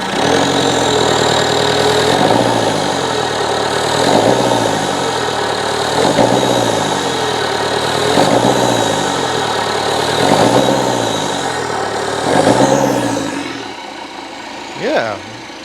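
A Citroen Berlingo engine runs at raised revs after an EGR cleaning, a steady droning hum with a slow, regular rise and fall in pitch every couple of seconds.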